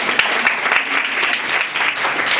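Applause from quiz-show participants and audience, a dense continuous patter of many hands clapping with a few sharper individual claps standing out.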